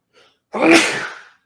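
A single loud, close sneeze bursts out after a faint intake of breath, then fades within about a second.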